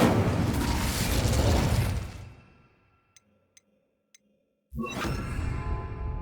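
Incendio fire spell cast in the video game Hogwarts Legacy: a loud, roaring, fiery burst that fades out over about two seconds, then near silence with a few faint ticks, then another rushing blast starts.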